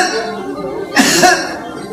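A storyteller imitates a coughing butterfly with a short burst of coughing in one breath, close and fairly loud, set within a lightly voiced spoken passage.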